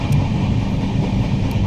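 Inside the 12277 Howrah Puri Shatabdi Express, a loud, steady low rumble of the moving train fills the carriage, with faint rhythmic wheel clatter and no talk.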